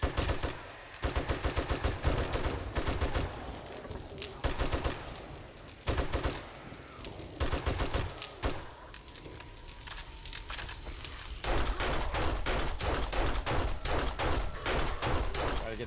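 Rapid gunfire rings out in the video game 7 Days to Die, with bursts of repeated shots separated by brief pauses and a steadier stretch near the end, while someone talks over it.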